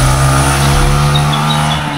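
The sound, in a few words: motorcycle engine running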